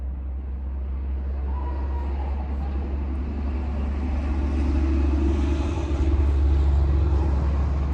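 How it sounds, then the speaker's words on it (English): A truck's exhaust gives a deep, steady rumble nearby, swelling slightly louder toward the end, with no talking over it. "I like that truck's exhaust."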